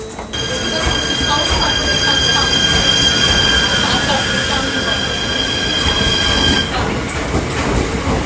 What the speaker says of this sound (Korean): 1번 열차는 강릉으로 가는 ITX 마을 1261 열차입니다. 열차 곧 출발하겠습니다.